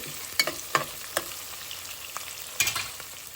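Hot tempering sizzles steadily as lentil soup for Andhra-style pappucharu is poured in, with a dense frying hiss and a few sharper bursts and pops standing out.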